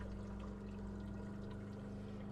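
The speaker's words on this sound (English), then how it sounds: "I can hear my water tank filling up right now from the fresh water" Fresh water filling the tank of a 2017 Roadtrek Simplicity RV, a steady low pump hum with a constant tonal drone and a continuous watery rush underneath, even and unbroken throughout.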